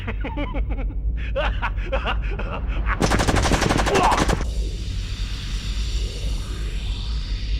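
Rapid automatic gunfire in the video game Lifeline bursts out loud for about a second and a half, following gasping, whimpering voice sounds and giving way to a low ambient hum.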